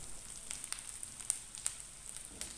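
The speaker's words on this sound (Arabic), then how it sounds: "تنخليو ديك البصلة حتى تطيح يولي اللون ديالها ذهبي" An onion fries in a pan until golden, giving a faint, steady sizzle with scattered sharper crackles and pops across a couple of seconds.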